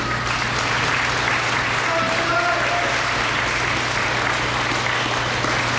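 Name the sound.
applause at an EMS graduation ceremony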